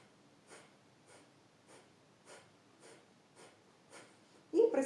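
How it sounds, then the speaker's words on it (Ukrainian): Bhastrika breathing exercise: forceful nasal breaths come as soft, evenly spaced puffs about every half second, faint and close, with a louder rush at the very end. "Вдихаємо, видихаємо, глибокий видих робимо носом."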